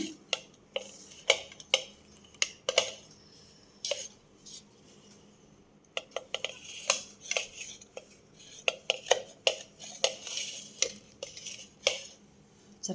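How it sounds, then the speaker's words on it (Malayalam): A knife cuts through a freshly baked tea cake, giving a series of light scraping taps and clinks of metal against a plate, irregular and fairly close, with quiet pauses between strokes. "നമ്മുടെ കേക്ക് ചൂടാറിക്കഴിഞ്ഞു നമുക്കിതൊന്ന് കട്ട് ചെയ്യാം"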